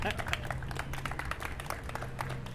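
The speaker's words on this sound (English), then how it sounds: "So, little round of applause." A crowd at a Hubway bike-share gathering marking one million rides gives a short, scattered round of applause, with voices murmuring underneath the clapping.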